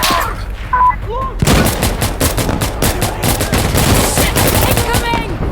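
Rapid bursts of automatic rifle fire and single shots crack close by in the Insurgency Sandstorm co-op mission, a dense continuous firefight with voices shouting over it.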